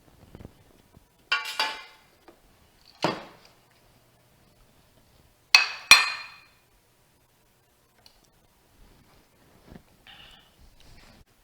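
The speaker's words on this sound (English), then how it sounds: "I'm going to go ahead and put those into" Roasted chickpeas tipped into a bowl, a few short rattling clusters of hard legumes hitting the dish, separated by quiet gaps, close and crisp, with fainter clinks toward the end.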